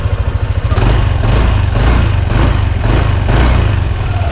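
A Yamaha NMAX 155 V2.1 scooter from the 2025 model year runs steadily up close with a low engine drone, lifting in a few light, rhythmic revs that swell and ease back. No one speaks.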